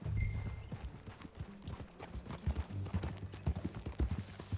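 Horse hooves clip-clop in a steady walking rhythm in Red Dead Redemption 2, close and moderately quiet, with faint game sounds underneath.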